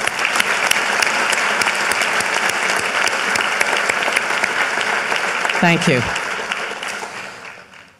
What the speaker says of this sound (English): A special round of applause for our chairs.